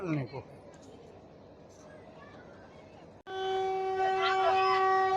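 A meter gauge train departing Visavadar station in the Gir sanctuary sounds a loud, sustained horn blast after a quieter stretch of idling rumble and distant station noise, with a voice briefly heard at the start.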